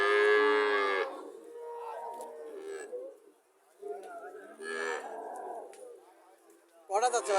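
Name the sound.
cow mooing at cattle market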